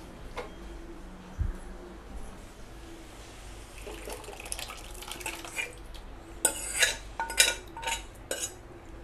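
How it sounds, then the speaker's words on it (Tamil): A spoon stirs radish sambar in a metal pot, making soft scraping and liquid sloshing sounds. Clinks against the pot sharpen and grow louder toward the end. "நல்லா மிக்ஸ் பண்ணி விட்டுக்கோங்க"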